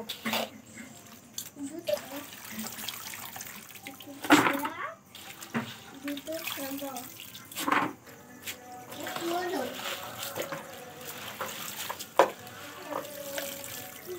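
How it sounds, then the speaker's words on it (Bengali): Chopped vegetables being washed by hand in a pot of water for a Bengali home-cooked dish, with irregular splashing and sloshing amid clinks of the vessel, while someone talks throughout and a voice may be heard. "এইভাবে কিন্তু ধুয়ে নিয়েছি, এটা কিন্তু লাস্ট ধোয়া, আর ধোবো না, অনেকবার ধুয়েছি।"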